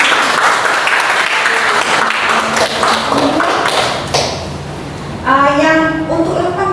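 A class in a micro-teaching lesson on cuboid and cube volume gives one quick round of clapping, dense and close for about four seconds, then trailing off under fainter voices and a tonal sound.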